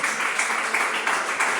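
A church congregation applauds together in a steady, dense burst of clapping that carries on evenly without pause, with no speech over it.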